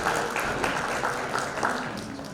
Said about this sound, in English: we'll have a huge round of applause for them as each one of them goes up on stage